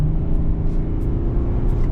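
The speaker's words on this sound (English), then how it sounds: "you can hear that turbo spool up" A GMC Sierra 1500 with the 3.0 Duramax turbo diesel under acceleration, giving a steady loud low engine drone heard from inside the cab, with no talk.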